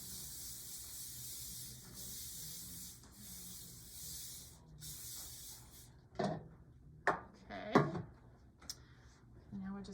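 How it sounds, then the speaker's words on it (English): A steady hiss of cooking spray sprayed onto a baking pan runs in bursts for several seconds, followed by a few soft knocks and clatters close by. "Take a pan and spray it really well with cooking spray or oil."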